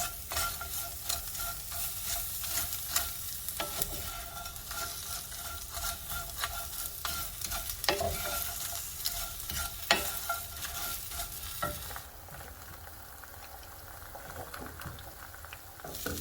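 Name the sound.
fresh onion sauteing in a pan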